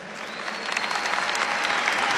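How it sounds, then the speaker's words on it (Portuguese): Applause from an audience honouring a young man who stands up among them, a steady clapping that swells and grows louder toward the end, with no talk over it. "Uma salva de palmas para esse cara aqui"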